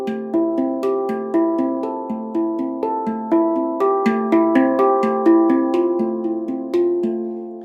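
A steel handpan played in a rotated orientation rings out a melody of evenly paced, bell-like struck notes, each tone sustaining and overlapping the next, alone and up close.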